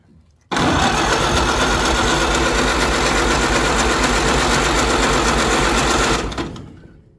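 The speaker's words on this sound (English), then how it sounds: "I'm just gonna try it without pumping the throttle at all and just see if it'll crank up" A Ford Model A engine cranks over without the throttle being pumped, a loud, steady, rapid churning drone that starts abruptly and runs unbroken for several seconds before cutting off and fading.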